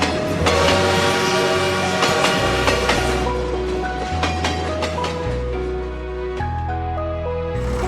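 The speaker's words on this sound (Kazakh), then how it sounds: "Пойыз" A train rumbles past loudly with rhythmic clattering wheels while its horn sounds in a series of long, changing blasts.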